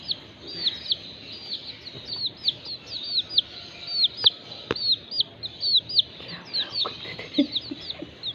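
Colour chickens cluck and chirp in a steady run of short, high calls, several birds close by and fairly loud, with no talk over them.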